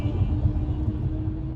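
A car drives along a California road, a low continuous rumble of engine and tyres heard from inside the cabin, steady and moderately loud over a brief moment.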